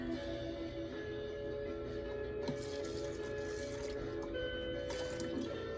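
Liquid pours steadily into a spray bottle for several seconds, a soft trickling fill of homemade disinfectant over a constant background hum, with no talking.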